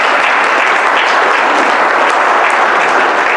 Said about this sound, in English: So a big clap.